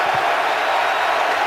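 Football stadium crowd at a Panthers at Packers game roaring loudly and steadily, a dense continuous wash of many voices with no single caller standing out.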